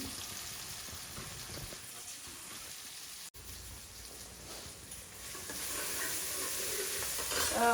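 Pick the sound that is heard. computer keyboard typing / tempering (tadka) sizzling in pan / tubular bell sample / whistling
tempering (tadka) sizzling in pan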